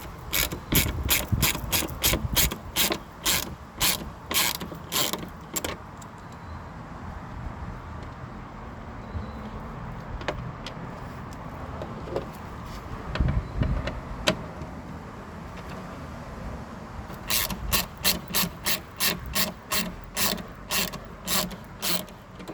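Ratchet driving a T40 bit to undo the cowling screws on a 2019 Jeep Wrangler JL Sport: bursts of rapid, close clicking at the start and again near the end, with quieter handling noise in between.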